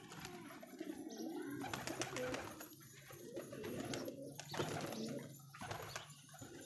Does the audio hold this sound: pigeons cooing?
yes